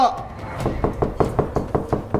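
Someone knocks on a hotel room door, about eight firm, evenly spaced raps, close and loud, with a voice speaking at the start.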